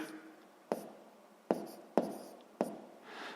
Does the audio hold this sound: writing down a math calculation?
yes